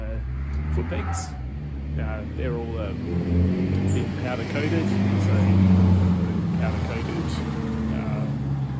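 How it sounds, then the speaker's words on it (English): A car drives down a nearby street, its engine swelling and fading in the background beneath someone talking throughout. "Sorry about the noise of the car going down the street."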